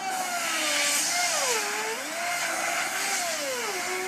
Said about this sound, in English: Now we'll just pop our router right in.